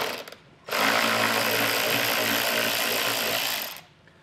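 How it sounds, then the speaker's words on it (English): A power tool driving out 10 millimeter bolts under the front fascia of a 2015 Mercedes, one steady loud whir lasting about three seconds, close up, with brief faint noises before it. "There's gonna be a 10 millimeter bolt there, and there's one on the other side. We'll get those removed."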